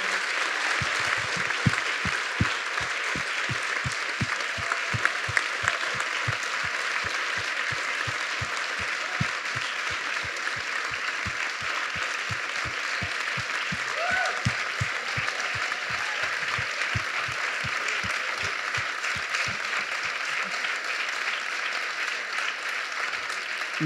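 Sustained audience applause at a morning film screening Q&A, a dense steady clatter of many hands lasting the whole stretch with no talk over it.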